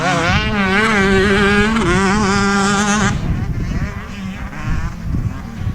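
Two-stroke motocross bikes race on a dirt track, engines screaming loud and close with rising, wavering pitch for about three seconds before dropping to a rougher, more distant rumble.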